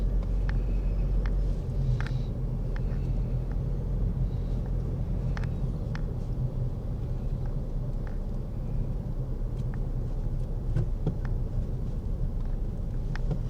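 Road traffic heard from inside a car moving through busy streets in the Philippines: a steady low engine and road rumble with faint passing vehicles, continuous and muffled throughout.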